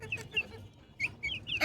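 Chickens cluck in short, scattered bursts close by in a small backyard coop, with brief gaps between the calls and no clear talking over them.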